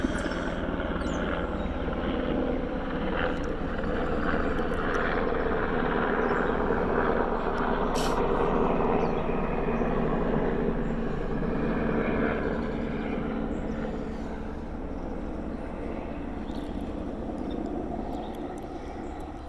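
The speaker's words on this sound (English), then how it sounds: "please bear with me while I wait for this helicopter to pass" A helicopter passes overhead outdoors, its rumbling rotor and engine noise holding steady and loud before slowly fading as it moves away.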